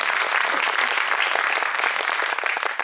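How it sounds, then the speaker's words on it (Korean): Audience applause fills a cinema hall during an anniversary screening event, a dense steady wash of many hands clapping close and loud, with no talk over it. "박수"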